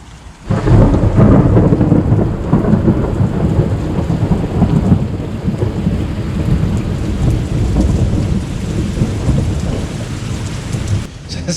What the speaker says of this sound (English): as the rain really begins to come down quite heavily here